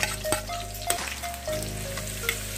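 Onions fry in hot oil with a steady close sizzle, punctuated by a few sharp utensil knocks and scrapes against the pan beneath a constant low hum.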